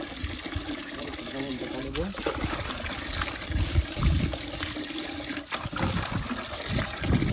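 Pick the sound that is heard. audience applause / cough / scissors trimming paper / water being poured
water being poured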